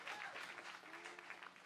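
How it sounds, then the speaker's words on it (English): An audience at a country music opry showcase claps steadily, a dense wash of applause that holds at an even level throughout. "Give you a round of applause."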